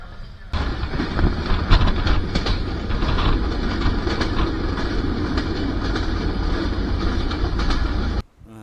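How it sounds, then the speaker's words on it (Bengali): A moving train near Rajshahi, Bangladesh, heard from inside the carriage: a loud, steady rumble of wheels and wagon that fills nearly the whole stretch, then cuts off abruptly at the end. "ট্রেনে চড়ে রওনা হয়েছি"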